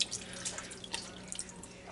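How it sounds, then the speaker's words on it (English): Tap water splashes and drips while a salsa jar is rinsed at a kitchen sink, faint, uneven trickles and small splashes, close by. "Rinse out the jar"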